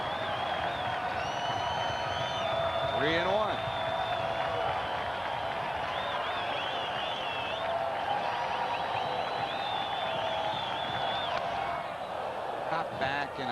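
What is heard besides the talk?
baseball stadium crowd noise at Reds game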